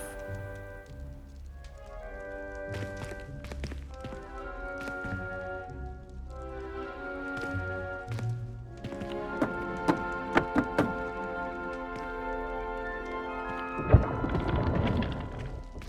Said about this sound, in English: You must tap the barrel, 2 from the bottom, middle of the second row, in the rhythm of Helgi Hufflepuff.